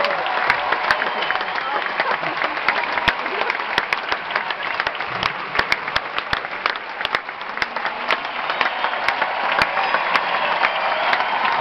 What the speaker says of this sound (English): So can you please give a big round of applause to the events team.